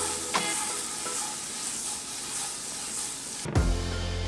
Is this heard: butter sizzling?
yes